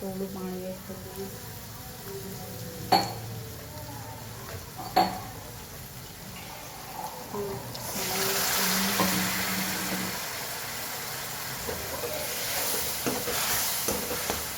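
Spice masala of coriander-cumin powder, turmeric, Kashmiri chili, hot chili and salt sizzles in a pan after a splash of water is added, with a couple of sharp stirring clinks early on, then a steady louder frying hiss.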